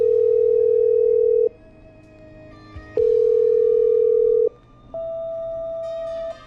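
A phone line being patched through in the video game Killer Frequency gives a loud, steady dial tone that breaks into alternating pitch segments, with no one speaking.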